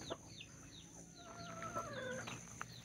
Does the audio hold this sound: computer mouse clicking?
no